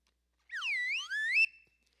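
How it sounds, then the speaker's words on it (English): A whistle is blown once at a conference keynote, giving a brief warbling, two-part trill that sweeps up and down in pitch, loud and close, alone with silence before and after. "and then I'll blow my whistle"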